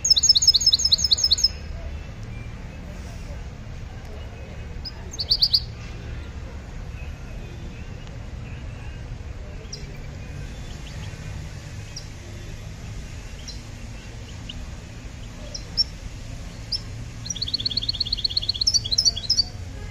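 Goldfinch at an outdoor bird market gives short bright chirping bursts at the start, middle and end, fairly clear over a steady low hum of market background, with no voices.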